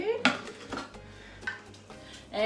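Metal clatters and clinks as a whisk attachment is pulled from a Thermomix TM6 bowl while making crème brûlée, a few sharp close knocks and scrapes spread over a couple of seconds, no talking.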